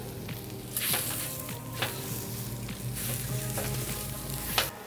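Sausage and a butter-and-flour roux frying on a griddle, a steady close sizzle with scraping and stirring strokes from a spatula at irregular intervals.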